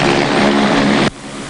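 A helicopter carrying airborne electromagnetic survey equipment at an airport roars loudly and up close in a dense, steady rotor and engine wash that suddenly drops to a quieter rumble.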